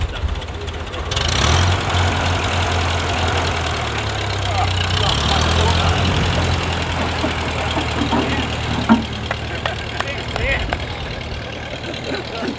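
A Massey Ferguson tractor used as a roller sits idling in a park, its steady engine rumble close and continuous while people talk over it.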